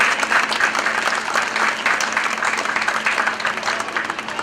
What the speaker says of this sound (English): So a great round of applause for all of the support and the hard work in putting those events together.